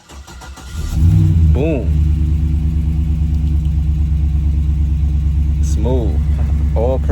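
A car engine cranks briefly with a whirring starter, catches with a rising rev, then settles into a steady, loud idle, with a person talking over it a couple of times.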